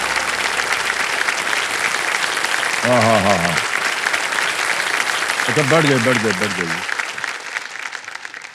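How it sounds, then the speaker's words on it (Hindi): A studio audience on a quiz show claps for itself in a dense, loud, continuous applause, while someone speaks briefly over it twice. "तो पहली बार देखा है कि ऑडियंस अपने ही लिए ताली बजा रहे हैं"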